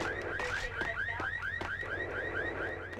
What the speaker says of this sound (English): That car alarm is annoying as hell.